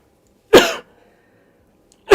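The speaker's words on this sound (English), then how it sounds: "just a little bit of coughing" A person with a cold coughs twice, each a sharp close burst about a second and a half apart, in an otherwise quiet indoor room.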